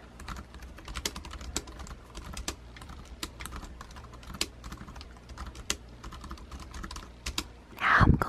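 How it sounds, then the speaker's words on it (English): Someone types on a light-up computer keyboard at a steady, quiet pace, producing soft clicky taps close to the listener, and a louder rustle or bump comes at the very end. "Here's some typing ASMR for the people who like to hear the tippity-tappity sounds of a keyboard."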